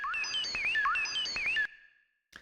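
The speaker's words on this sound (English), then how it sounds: "That's the sound of a PlayStation saving." Short electronic save jingle from a PlayStation while playing the kart racing game Kursed Kart Racers, a bright melodic chirping tone sequence lasting about a second and a half, then silence and a faint click.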